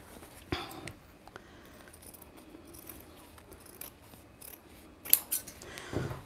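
Scissors snip through apron fabric in a few short, crisp cuts, a quick pair near the start and a louder cluster toward the end, with quiet handling noise between.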